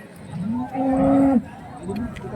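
A bovine moo rings out once at a bullock market, a loud drawn-out low call lasting under a second, with faint crowd noise and livestock sounds around it.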